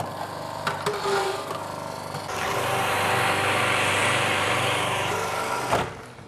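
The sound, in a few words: Magimix food processor running, making juice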